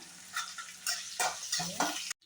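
Tomatoes, green chilies and unpeeled garlic sautéing in a pan, with a steady close sizzle and a few stirring scrapes, ending abruptly.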